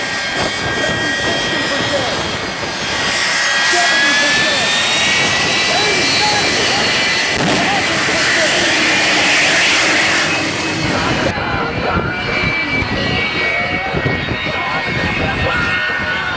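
A T-30 airplane's engine roars through its takeoff run at the Waterloo air show, a loud, sustained whine and rumble that builds and holds, with an announcer talking over it.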